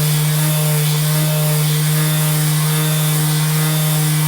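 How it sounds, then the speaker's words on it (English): A Bauer cordless quarter-sheet sander runs against wood with a loud, steady motor drone and strong hum, its buzzing vibration unbroken throughout with no talk. "there it is with that random orbit sander"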